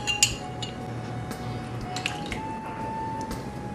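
Three tablespoons of apple cider vinegar poured into an olive oil salad dressing for a mango avocado chicken salad, heard as a few soft drips and squishy splashes with light clinks of a spoon against a dish over a steady low kitchen hum.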